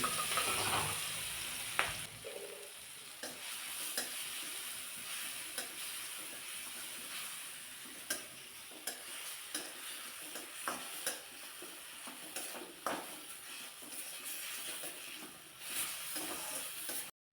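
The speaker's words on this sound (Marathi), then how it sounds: "तेल चांगलं तापलं की मोहरी घालायची हे जे मिरचीचं वाटण बनवलं होतं मिरची जिरे लसूण हे सगळं वाटण यामध्ये घालायचं आहे" Chili, cumin and garlic paste with mustard seeds fries in hot oil for a pumpkin bhaji, a soft steady sizzle with faint stirring clicks and scrapes, fairly quiet throughout.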